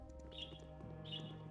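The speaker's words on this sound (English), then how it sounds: "That's actually it looked like an eagle, but it's actually a falcon." A falcon call in the video game Baldur's Gate: two quick, high, shrill cries over a low droning game background, faint and close together.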